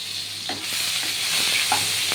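Onion paste sizzles steadily in a hot pan while being stirred for paneer butter masala, a continuous close frying hiss broken by a few soft scraping stir strokes.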